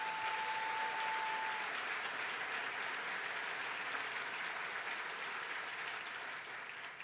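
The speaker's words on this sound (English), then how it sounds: "Let's give her a round of applause." Sustained audience applause in a legislative chamber during a New York State of the State address, a broad even roar of many hands clapping throughout, fairly distant, with a brief tone near the start.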